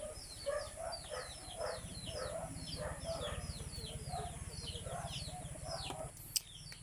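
Chickens cluck repeatedly nearby in short, rhythmic calls over a steady low background hum, with a brief sharp click near the end.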